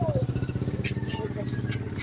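A motorcycle engine putters close by with a rapid, regular pulsing drone, while people talk over it outdoors.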